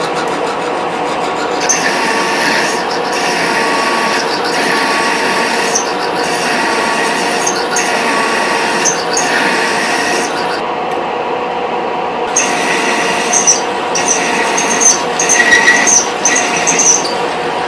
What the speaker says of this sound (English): I got the part drilled